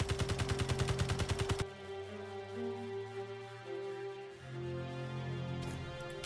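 Rapid automatic gunfire fired at a turret in Space Engineers: a fast, evenly spaced burst of loud shots lasting over a second, then a low mechanical hum and ringing tones take over.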